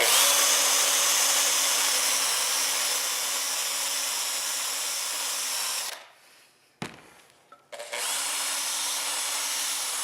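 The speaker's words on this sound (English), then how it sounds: "Proper sanding." A loud, continuous whine from a power sander on a guitar body being reshaped, holding steady up close, then spinning down into near silence with a clunk before starting up again at full speed.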